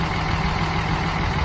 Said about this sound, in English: We'll listen to it run. .7 liter Cummins turbo diesel.